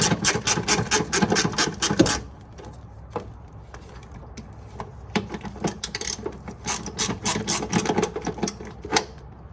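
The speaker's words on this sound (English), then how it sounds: "these bolts appear to be 10 millimeter. I'm just gonna take them out real quick" Quick bursts of rapid mechanical clicking, like a ratchet spinning out 10 mm bolts on a 2000 Jeep Cherokee XJ, run close and busy for two seconds, pause with a few isolated ticks, then resume in longer clattering runs.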